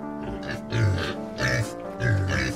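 Pigs grunting on a farm in three loud, deep bursts about half a second apart, over a steady low hum and lower background grunting between them.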